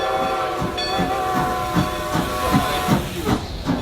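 A steam train rolls steadily along the rails with a repeating clack over the joints, a constant rumble and hiss, and a faint whistle-like tone overhead.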